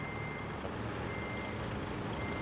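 A truck's reversing alarm in the Roadcraft road-building video game, a steady high electronic beep held evenly over a faint low engine rumble, with no voices.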